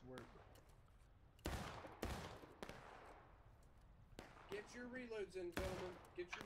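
Scattered rifle shots ring out in an infantry war game as troops fire independently, sharp reports spaced irregularly, some close and some farther off, with a voice speaking between them.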